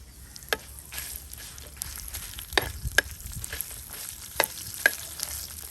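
Coriander seeds, cumin, mustard seeds, garlic and onion dry-roasting in a pan for a Mangalorean egg drop curry, a low steady crackle with a few sharp pops and stirring scrapes, close and quiet, without talk.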